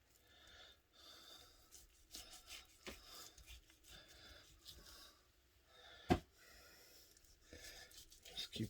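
A knife trims hard fat off a competition BBQ brisket in a series of soft, close scraping and rasping strokes, with one sharp knock partway through.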